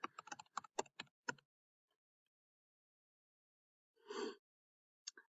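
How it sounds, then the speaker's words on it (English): A computer keyboard is typed on quickly to enter a login, giving a close burst of crisp key clicks for about a second and a half, then silence, then one short later clatter and a final tap. "So I'm going to just type in my login."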